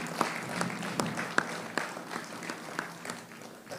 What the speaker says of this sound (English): We must clap for that, for sure.